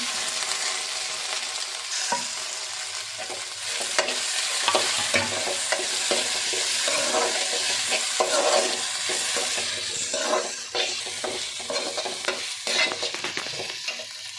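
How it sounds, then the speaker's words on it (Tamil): Previously sautéed okra sizzling in a pan for a spicy tamarind curry, with repeated scraping and stirring strokes over a constant close, loud fry. "வதக்கி வச்ச வெண்டைக்காயை சேர்த்துக்கலாங்க"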